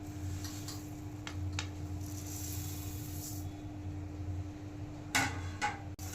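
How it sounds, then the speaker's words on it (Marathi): Coriander seeds dry-roasting in a pan over a low gas flame, a quiet steady background with a few soft ticks and scrapes as the seeds are stirred, ending in a couple of louder clatters. "धने जे आहेत ते आपण साफ करून घेतलेले आहेत आणि ते छान असं आपण भाजणार आहोत मंद गॅसवरती"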